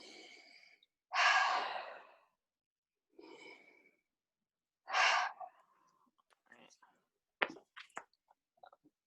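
During a therapy session, a person takes two deep, audible inhalations close to the microphone, each about a second long, with softer breaths and small mouth noises between and after them.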